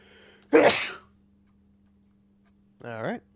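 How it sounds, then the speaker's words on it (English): A sharp, explosive sneeze bursts out close by, followed after a pause by a short voiced sound, over quiet background hum. "I think I'm about to sneeze."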